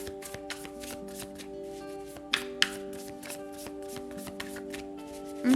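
Tarot cards shuffled by hand during a reading, crisp riffling flutters and soft taps repeating close up over a steady musical drone, with two sharper snaps midway.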